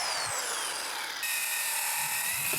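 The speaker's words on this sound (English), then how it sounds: "I use my reciprocating saw to finish the cut" Reciprocating saw finishing a cut through a wooden gate post, giving a steady, high buzzing rasp up close that shifts pitch partway through.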